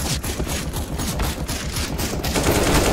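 A CS:GO auto sniper rifle fires a steady run of rapid, evenly spaced shots, loud and close, continuing for about three seconds.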